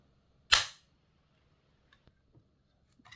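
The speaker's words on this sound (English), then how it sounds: "That is a very positive click." A top cover latch on a belt-fed AR15 upper snaps shut with one sharp, loud metallic click, followed by a few faint small clicks and handling noises in a quiet room.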